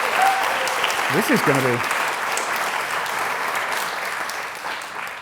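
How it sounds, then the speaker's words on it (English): Applause from an audience at a community awards ceremony in Lichfield, a steady wash of clapping throughout with a brief spoken phrase over it near the start. "So another round of applause for Liberty Jamboree."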